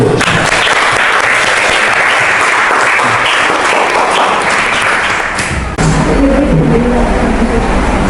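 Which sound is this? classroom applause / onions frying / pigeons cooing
classroom applause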